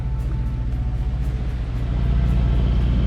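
Sailboat inboard engine running while motoring slowly up the coast, a loud steady low diesel drone and rumble with rhythmic throbbing that rises slightly in level toward the end.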